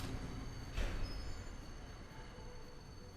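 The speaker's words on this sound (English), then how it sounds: "That is entirely derailed the train" Roblox train in Rails Unlimited derailing: a steady rolling rumble with a brief squealing burst of wheels, running on alone without talk.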